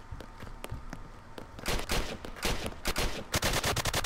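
Rapid cracking shots from a Maverick sniper rifle in the Apocalypse Rising video game, a few sparse reports at first, then a dense, loud volley of repeated gunfire building through the second half.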